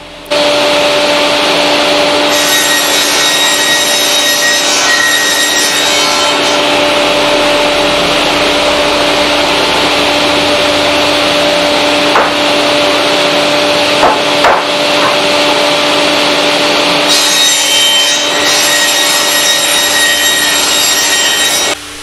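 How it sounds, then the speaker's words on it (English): A table saw cuts through glued-on wood strips for a DIY air filter box, its motor whining loud and steady throughout as the blade rips the wood, with a harsher cutting bite at the start and end. "We cut through the strips, but not the side pieces on the table saw"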